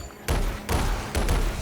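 Video game gunfire in Alienation, loud bursts of shooting and impacts starting abruptly after a brief quiet moment, with several sharp onsets stacked into a dense, booming barrage.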